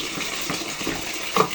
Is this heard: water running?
yes